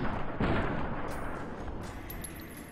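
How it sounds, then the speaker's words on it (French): Gunshots aimed at a scorpion in the video game Fallout: New Vegas, one loud booming report up close followed by a decaying rumble and faint softer pops. "Par défaut, on va tirer deux balles"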